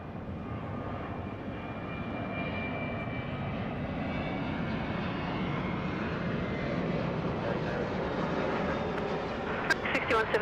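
Steady roar of an aircraft engine on the runway at Sydney Airport, a broad continuous rumble that swells slightly, with a few faint clicks at the end.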